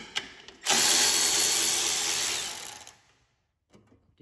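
A power driver with a 5/16 socket spins a nut off a lawn tractor engine, running as one loud continuous whir for about two seconds before winding down, with a few faint clicks afterward.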